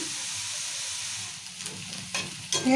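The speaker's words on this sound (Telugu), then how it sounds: "ఇట్లా ఉల్లిగడ్డలు కూడా ఇట్లా ఎర్ర కావాలి ఇట్లా ఎర్రగా వేయించుకోవాలి కలుపుకుంటూనే ఉండాలి" Onions fry in a pan while being stirred to turn them red-brown for an amaranth-leaf and tomato curry, giving a steady close sizzle with a few louder bursts of stirring near the end.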